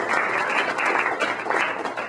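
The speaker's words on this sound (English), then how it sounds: "Let's give her a round of applause." A campaign-event audience applauds steadily in a dense, continuous wash of clapping, close and fairly loud, with no pauses across the short stretch.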